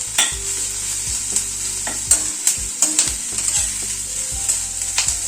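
Onion frying in a pan for a vegetable sabji to eat with roti, with a steady high sizzle and repeated scraping stirs of a spoon across the pan, close and continuous throughout.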